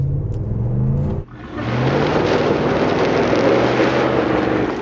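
A 2010 Ford Raptor in off-road mode revs its engine with a low rumbling idle, a brief dip, then a loud sustained roar and whir close by.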